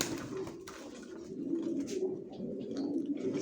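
Young racer pigeons coo steadily in a cage, their soft, low, throaty calls overlapping close by with no talking.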